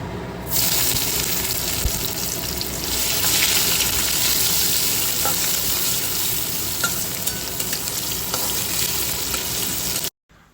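Vegetables and panch phoron spices frying in hot oil on a home stove, a steady close sizzle running the whole time with faint stirring clatter and no talk.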